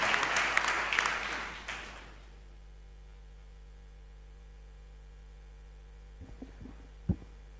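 An audience at a formal national police dialogue event gives a burst of applause that fades after about two seconds into a quiet hum, followed by a few faint knocks.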